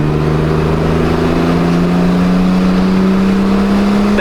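A heavily modified Toyota Camry, said to make 2,000 horsepower, accelerates hard at full throttle, its engine drone loud and close and rising steadily in pitch without a break.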